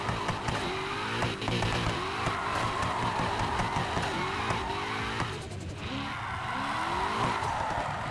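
A BMW M3 E46 spinning out in Need for Speed Heat, the engine revving and rising and falling in pitch over repeated tire squeals and skids, loud and continuous.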